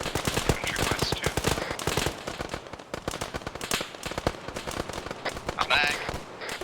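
Rapid bursts of automatic and single-shot gunfire from a video game infantry battle, with dense cracking volleys close by, stretches of sustained fire and brief lulls, and no speech.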